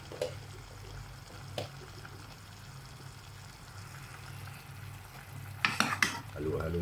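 Adobo pork is stirred in a pan on the stove, with a faint, steady sizzle underneath. A utensil clinks and scrapes against the pan a few times, the scraping busiest near the end. No one speaks.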